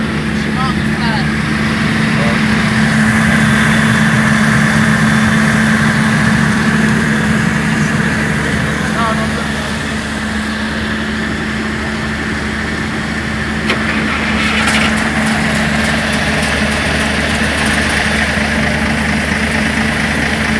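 Cummins 500 diesel engine running at a steady, loud idle with a deep, constant drone throughout and no clear start, while people talk over it.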